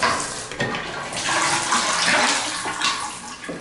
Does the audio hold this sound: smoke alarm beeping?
no